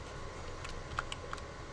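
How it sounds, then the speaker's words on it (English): Faint keystrokes on a computer keyboard while writing a Python script, a few light clicks spaced irregularly over a steady background hiss. "I'm going to start typing what they're typing here"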